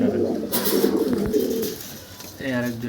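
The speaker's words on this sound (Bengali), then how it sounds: "এই আরেক জোড়া কবুতর, এই জোড়াটা আমার খুব পছন্দের।" A pair of breeding pigeons coo softly nearby, their low rolling calls repeating through the first part and returning near the end after a short pause.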